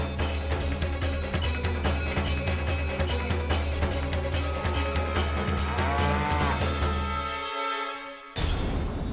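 A cow moos over a steady musical background, its low drawn-out call rising near the end before the music cuts briefly and resumes.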